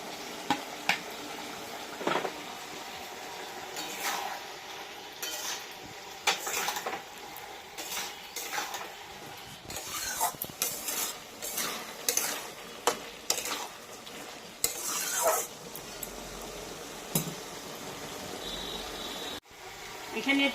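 Prawns frying in a pan for a bitter gourd dish, with steady sizzling and metal utensils scraping and clinking as they are stirred; a voice speaks now and then over the cooking.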